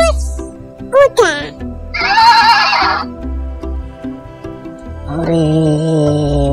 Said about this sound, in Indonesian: Bagus. Kuda.